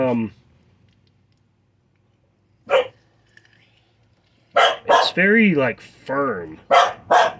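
Someone speaks briefly, then a dog lets out a few loud barks and yelps close by, mixed with more talking.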